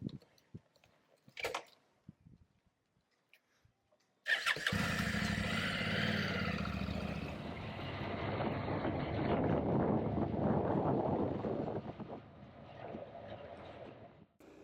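A Honda NC700 motorcycle starts and pulls away on a ride, its engine bursting in loudly after a few quiet clicks, then running in a steady close rumble that swells with acceleration and eases near the end.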